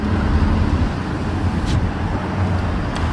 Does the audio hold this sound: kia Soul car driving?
yes